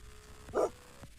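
A single short cartoonish dog bark from the Super Auto Pets video game, one brief mid-range burst over a low steady game background.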